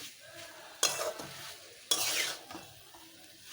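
Okra stirred into spiced masala and fried in a pan without water, with two sharp bursts of scraping and sizzling about a second apart, then a quieter steady fry.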